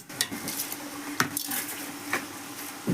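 Rice being washed in a metal pot for chicken biryani, with sharp clinks and scrapes of metal against the pot at irregular intervals over soft sloshing and kitchen background.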